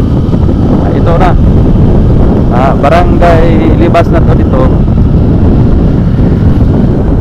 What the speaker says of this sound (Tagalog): Malakas ang hangin dito, kaya yung drone natin ay hirapan sa paglipat.